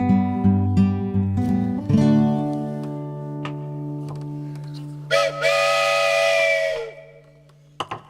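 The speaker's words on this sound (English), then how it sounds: "All aboard, the Pachyderm Train is leaving the station." A train whistle sounds loud and close as a train leaves the station, a sustained tone of about two seconds following a series of layered musical tones.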